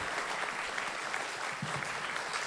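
A concert crowd at the 2016 Solo Życia festival in Lublin keeps up loud, continuous applause, a thick, even roar of many hands clapping without a break.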